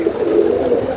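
A pigeon coos close by in a low, soft rolling call filling the whole brief moment, with no voices present.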